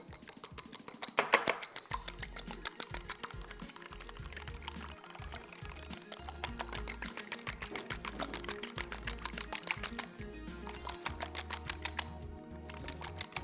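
A whisk beats an egg wash of eggs and milk in a bowl, a fast steady clatter of close, repetitive metallic taps that runs almost without a break, with a brief louder burst near the start.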